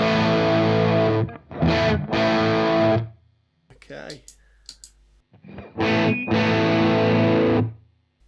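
An electric guitar runs through a UAFX Lion amp pedal on the Greenback 25 setting, playing distorted chord bursts with a gap in the middle where a brief word is spoken.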